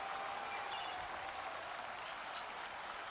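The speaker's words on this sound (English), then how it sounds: "Crowd go absolutely nuts." A crowd in the Tiger Woods PGA Tour 14 golf video game applauds and cheers continuously with a steady, dense roar.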